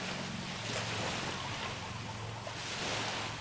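Ocean waves wash onto a beach on Siquijor Island in the Philippines, a steady soft roar of surf with some wind, fairly faint and continuous, with no voices.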